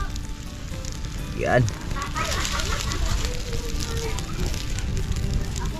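Adobo sa gata with mudfish cooks over an open fire, crackling and sizzling steadily under casual talk, with a sharp swoop near the start and faint background chatter throughout.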